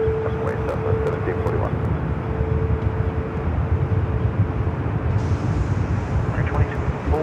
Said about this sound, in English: Dreamliner touching down at 24 right.